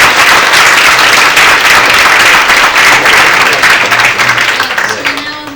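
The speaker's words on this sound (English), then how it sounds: "Round of applause." Loud, dense applause from a conference audience fills the space steadily, then gradually thins and tapers off toward the end.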